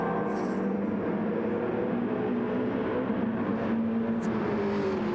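A race car engine drones steadily at Watkins Glen in a racing video game during a Manufacturers Cup league race, a sustained whirring tone with a faint pass-by shift and no voices.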